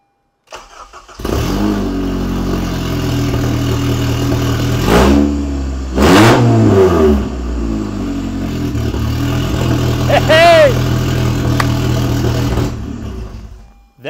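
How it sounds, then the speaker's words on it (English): A Honda CR-Z fitted with a K24 engine and running an open exhaust cranks and fires up, then settles into a loud, steady idle punctuated by several sharp revs, close to the microphone throughout. "It's open exhaust right now. We'll see how that sounds. Fire it up."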